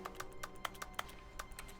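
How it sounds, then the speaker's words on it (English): Clicking on objects in The Stanley Parable: Ultra Deluxe brings quick keyboard clacks, about a dozen irregular taps over roughly two seconds, faint and close against a quiet background. "if you click on things, it just sounds like a keyboard clapping. Clacking, not clapping."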